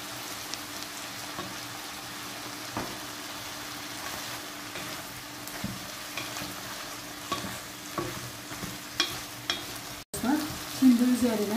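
Vegetables, onions and carrots with peppers added, sautéing in a pan for a chicken pie filling, with steady sizzling frying and repeated stirring scrapes throughout, closer and louder clatter near the end.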